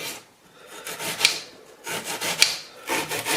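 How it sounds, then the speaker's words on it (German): A knife works through onions on a cutting board, several rasping, scraping slices in irregular bursts with sharp little knocks as the blade meets the board, close and fairly quiet, with no talk. "Und wir schneiden hier ganz gemütlich unsere Zwiebeln."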